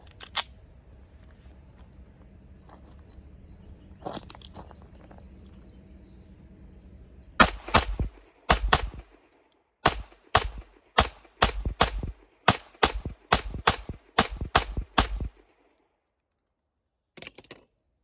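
Pistol shots from a CZ Shadow 2 Compact at an outdoor range: after a quiet stretch with one muffled thump, a rapid string of about a dozen sharp, loud cracks fires in quick succession, then a lone shot near the end; no talking.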